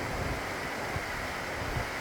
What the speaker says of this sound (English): just listening to the waves crash